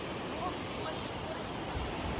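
The Mahakali (Kali) river near Dharchula on the Nepal–India border, flowing as a faint, steady broadband rush of water heard from a distance without pause.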